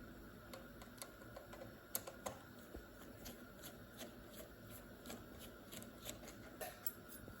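Screws are undone on a 27-inch 2011 Apple iMac, giving small, irregular clicks and ticks close to the microphone over a quiet background.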